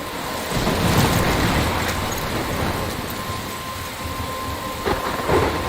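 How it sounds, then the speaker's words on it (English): A steady roar of heavy rain fills the scene, with low rumbling thunder swelling early and a few sharper cracks near the end, loud and continuous with no voices. "I'm trapped in a storm?"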